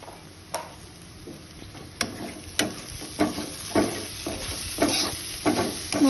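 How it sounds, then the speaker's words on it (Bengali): Spices frying in a pan, a soft background sizzle broken by irregular sharp scrapes and taps of a spatula stirring every half second or so, close and fairly quiet with no talking. "মশলাগুলো ভেজে নেব।"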